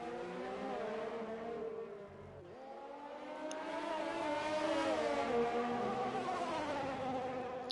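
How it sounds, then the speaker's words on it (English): A Formula 2 race car engine in a racing video game at a Russia round, whining with layered rising and falling pitch and a rev glitch, dipping briefly then climbing steadily, fairly close and continuous with no talk. "I can hear the rev glitch."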